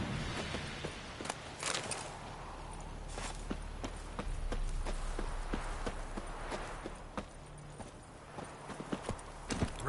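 Roach the horse from The Witcher 3 gallops along, its hooves beating a quick, rhythmic clip-clop at moderate volume over a low ambient hum, with no talk.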